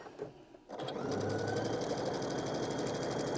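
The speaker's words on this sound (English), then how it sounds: "you'd be chain stitching some of them together" A sewing machine chain stitches quilt triangle pieces, starting after a brief pause and then running in a fast, steady, even whir of needle strokes close by, with no talking.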